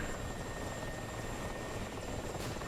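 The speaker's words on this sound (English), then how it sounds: "You can see another Mi-24 up high above the K50 and this Mi-24." A Mi-24 attack helicopter in a flight combat game drones with a steady, close rotor and engine roar and a faint high whine, unbroken and with no voices.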